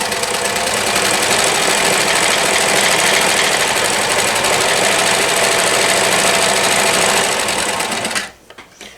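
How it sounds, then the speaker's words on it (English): A 1994 New Home Limited Edition Model 108 sewing machine sews at a steady, loud, rapid whir for about eight seconds, close up and alone, before stopping. "Let me show you a little bit about how it works, how well it sews."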